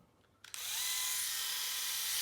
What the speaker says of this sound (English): So this is an epilator, which means it's like lots of little tweezers all at once that pull out the hair.